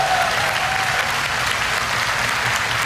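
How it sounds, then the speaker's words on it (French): Loud, dense applause fills the room at a Japan Expo 2010 stage show, with a sustained wash of clapping and a brief voice or whistle-like tone near the start. "Je voudrais qu'on vous applaudisse."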